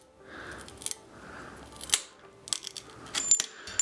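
A bike handlebar being cut with a pipe cutter, giving a series of sharp cracks and clicks, close and fairly quiet, with no talk.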